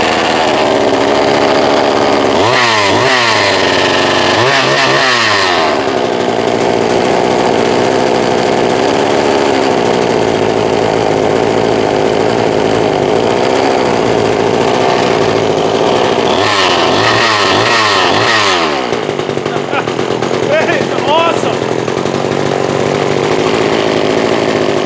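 A rebuilt small chainsaw engine runs loud and close, idling with a raspy two-stroke buzz. It revs up sharply in two bursts near the start and again later, with no talking.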